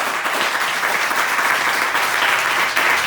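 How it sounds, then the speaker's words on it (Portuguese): A church congregation applauding during a family evening service, loud, dense and sustained clapping from a large crowd, even and continuous throughout. "Você pode aplaudir o Senhor nessa noite?"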